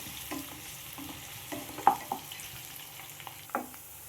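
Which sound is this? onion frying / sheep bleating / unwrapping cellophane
onion frying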